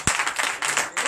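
A church congregation at a night deliverance and prophecy service bursts into applause, a short dense wash of clapping from many hands at close range.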